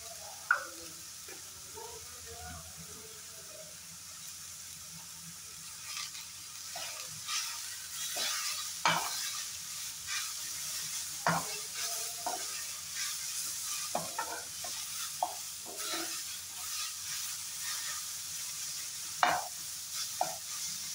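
Vegetables and coriander powder stir-fry in a pan without oil, with a faint dry sizzle under repeated scraping and stirring strokes of a spatula, close and intermittent.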